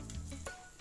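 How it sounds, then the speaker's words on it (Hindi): A paneer patty sizzles and crackles steadily as it fries in hot oil to a golden brown for a spicy burger, a soft, continuous hiss with small pops and no talking. "it's sizzling."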